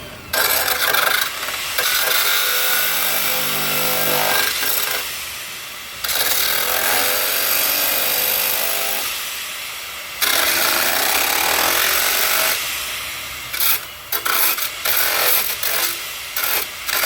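A power tool cuts out a structural body part on a 2023 Toyota RAV4 during a repair, loud and continuous with brief pauses between long passes.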